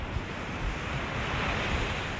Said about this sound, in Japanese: 朝の波状況